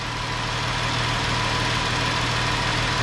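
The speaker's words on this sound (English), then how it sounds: "And with the engine running," A car engine idles steadily at close range during a check for leaks, with a constant, even drone and faint mechanical knocking throughout, no voices.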